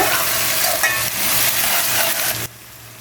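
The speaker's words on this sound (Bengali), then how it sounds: "এখন পেঁয়াজটাকে আমি একটু ব্রাউন করে নিব" Onions browning in a pan with cinnamon and cloves, a loud, dense sizzle with stirring scrapes that cuts to a much quieter hiss near the end.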